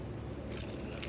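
Fire alarm keys, including Simplex and Firelight annunciator keys, jingle briefly in a short metallic burst midway through an otherwise quiet stretch, with no talking.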